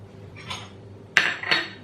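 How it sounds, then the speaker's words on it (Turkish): A utensil clinks against a bowl while yeast and sugar are stirred, giving one soft tap followed by two sharp metallic chinks, close and without speech. "Şimdi bunları önce karıştırıyorum"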